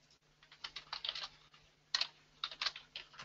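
Keystrokes on a computer keyboard, typed in quick irregular bursts with a short pause partway through, close and fairly quiet against a low steady hum.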